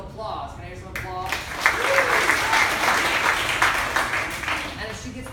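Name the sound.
audience applause at improv show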